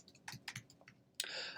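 A computer mouse and keyboard click on a desk during data entry in match-official software: several light, close taps, then a sharper click followed by a brief hiss.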